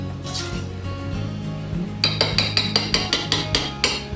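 A rice spoon fluffs cooked rice and works butter into it in a metal pot, a run of sharp, evenly spaced clinks and scrapes following quieter stirring, close and clear over a low kitchen hum.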